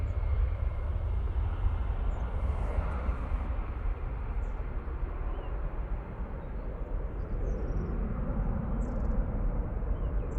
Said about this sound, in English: Down to that EasyJet going off to Hamburg now